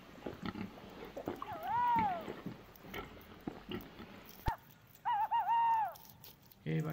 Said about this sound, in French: nous avons notre belle chouette qui arrive pour rassembler les petits oiseaux